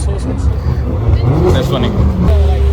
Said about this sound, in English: You can hear the turbos on the back of that.